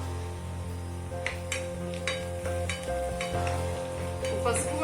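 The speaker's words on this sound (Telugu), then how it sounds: "మనకి ఉల్లిపాయలు బాగా మంచిగా ఫ్రై అయిపోయినాయి మంచిగా బ్రౌన్ కలర్ వచ్చినాయి" Onions fry and sizzle in oil with turmeric, a steady close hiss with a spoon or spatula scraping and stirring the pan now and then, and no talk.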